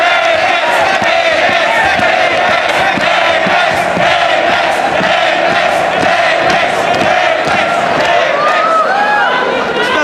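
A dense crowd roars and cheers continuously at a FlipTop rap battle, loud and sustained with shouts rising over the din and voices mixed throughout.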